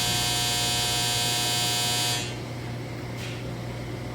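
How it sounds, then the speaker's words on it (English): A clothes dryer buzzer sounds a loud, steady electric drone for about two seconds, then cuts off, leaving faint background hum. "That would be my dryer."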